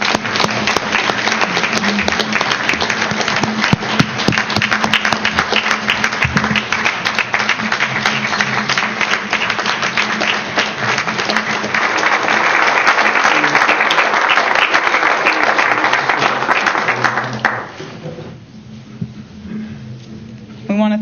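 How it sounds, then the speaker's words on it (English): Sustained loud applause from an audience at a tribal council meeting honoring U.S. Marshals, dense steady clapping that fills the room for about seventeen seconds before tapering off into scattered claps. "And Sharon, let's give them a round of applause."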